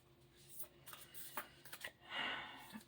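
Quick papery riffles and flicks of cards being shuffled, in short uneven bursts with a longer rush near the end, close by.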